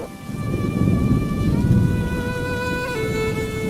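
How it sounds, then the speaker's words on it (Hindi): Steady, dense rainfall hisses throughout, with a low rumbling undertone and faint tonal hum, no voices. "इतनी बारिश हो रही है"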